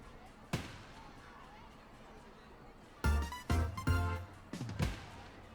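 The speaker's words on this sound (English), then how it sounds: "I just really like how pretty it is with the fireworks." Fireworks in the Bits and Bops video game's Firework Festival level: a soft pop, then a cluster of bright crackling bursts with musical tones, rhythmic and fairly faint.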